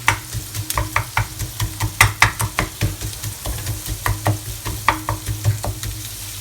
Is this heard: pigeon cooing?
no